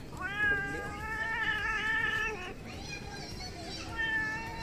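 Kittens at the National Zoological Park in New Delhi meow repeatedly in drawn-out, high cries, close and loud, over a busy background of people and children.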